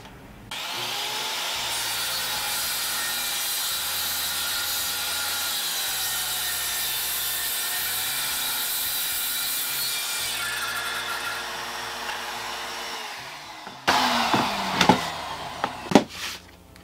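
A circular saw running along a homemade guide cuts a wood board: a loud, steady whine for about thirteen seconds, then spin-down and clattering handling noises at close range.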